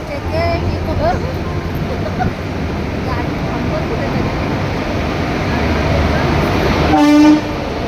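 A passenger train on a June journey through Konkan rumbles steadily into a station, rising in loudness before a sharp horn blast near the end, with people talking over the rail noise.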